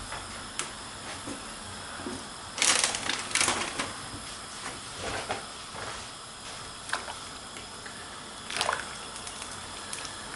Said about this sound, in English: both bags of pasta in the pan. Give it a stir.